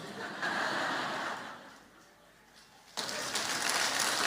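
A church congregation claps during a sermon, with a stretch of steady applause that fades to a brief lull, then a second burst of clapping starts abruptly and carries on.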